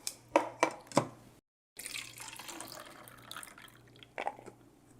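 A few sharp knocks, then tap water runs steadily with splashing and rattling as walnuts are rinsed under it, close by.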